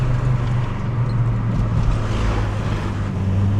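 A Volvo 850 GLT turbo engine builds boost under acceleration, a loud steady low-pitched drone heard from inside the car with broadband wind and road rush over it.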